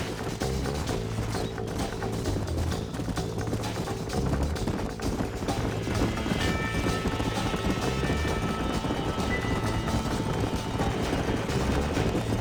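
Hooves of galloping horses drum steadily in the Red Dead Redemption video game, a continuous rapid clip-clop pounding close by, layered with game music and effects for the whole stretch.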